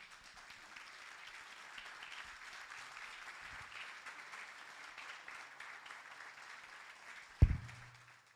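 Audience applause at a provincial communication forum, a steady wash of clapping held for several seconds before a sharp thump near the end as it dies away.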